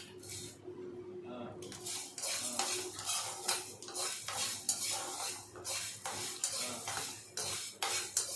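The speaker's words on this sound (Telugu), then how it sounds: "కొంచెం వేరుశనగకాయ పప్పులు వేస్తాను. ఇవన్నీ దోరగా వేయించుకోవాలి ముందు." Peanuts roast in a pan while a spoon repeatedly scrapes and stirs them, producing rhythmic rustling and clinking strokes up close with a light sizzle underneath.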